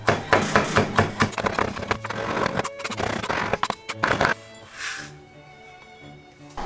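Kitchen knife finely chopping vegetables on a board, rapid close knocking strokes in a busy burst that then stops, leaving a quieter sustained hiss with faint background tones.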